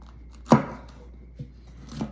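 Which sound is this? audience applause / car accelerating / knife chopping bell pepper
knife chopping bell pepper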